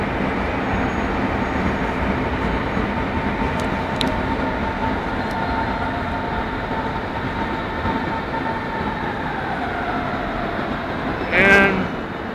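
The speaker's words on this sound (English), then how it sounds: "Here comes the train." A train pulling into a multi-level station platform, a steady rumbling roar of rail cars close by with a brief squeal of brakes near the end.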